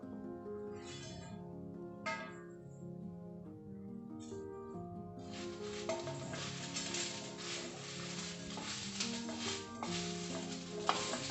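Chicken fries in a pan for a village-style chicken curry, a steady soft sizzle with occasional stirring scrapes that thickens into a denser hiss midway, under a background of music.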